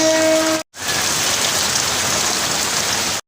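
Monsoon rain pours steadily at a station, a dense, even hiss of drops on surfaces, broken by one brief cut near the start.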